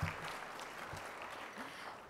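An audience applauds and cheers for the Dodgers, a steady, fairly faint wash of clapping heard at a distance with no break.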